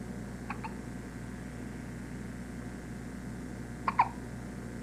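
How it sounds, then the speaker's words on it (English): Two sets of short, sharp hiccup-like bursts, one early and a louder pair near the end, over a steady low background hum; no talking. "come on, let's lose them hiccups."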